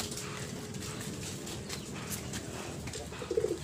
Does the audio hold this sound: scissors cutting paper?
no